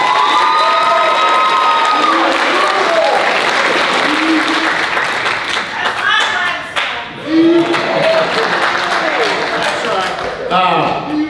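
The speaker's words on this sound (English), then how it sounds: "You get a round of applause." An audience applauds at a high school student athlete awards and collegiate signing ceremony, loud sustained clapping mixed with cheers and a few shouts, with voices rising through the crowd noise.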